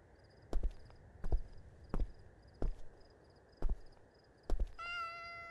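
In the video game Mayonaka 10 Chome, a cat meows briefly among six evenly spaced thuds, then a steady electronic tone rises at the end.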